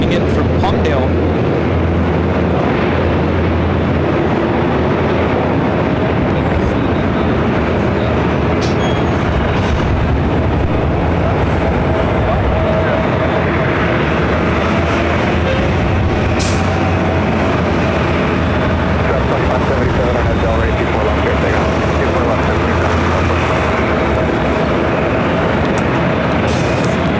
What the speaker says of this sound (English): This Beach King Air 350i coming in from Palmdale.